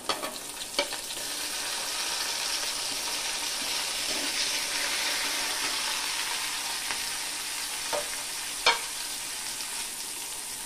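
Egg and flattened rice with chopped tomato gently stirred in a frying pan, a steady close sizzle with a few sharp scrapes and knocks of the utensil against the pan.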